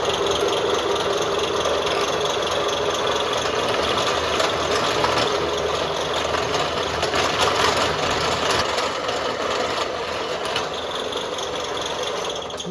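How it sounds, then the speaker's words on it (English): A power saw cuts a slit, giving a continuous, loud, harsh buzzing whine that holds steady for the whole stretch with no pauses, close by. "We'll just use this saw."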